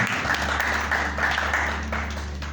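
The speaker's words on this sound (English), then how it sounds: "can you clap as she makes her way to the front?" An audience claps steadily as a woman walks to the front at a church-related gathering, a dense, continuous patter of applause throughout that eases slightly toward the end.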